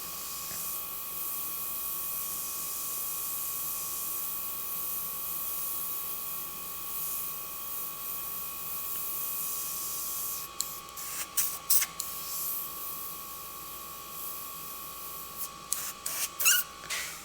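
An airbrush sprays black and grey paint onto a motorcycle saddlebag as a steady hiss, with short bursts and small squeaky clicks near the end, close and even.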